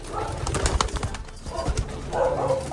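Japan-breed racing pigeons in a loft give soft, low coos and rustling, with a few fluttery movements and a brief burst of cooing near the end.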